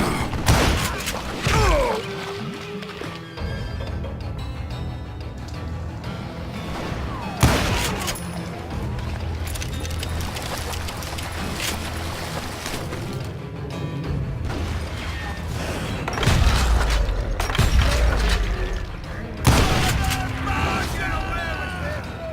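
Gunfire in the Western video game Call of Juarez: Gunslinger: a fusillade of loud, sharp shots cracks repeatedly over a constant rumbling din, with heavier bursts late in the clip.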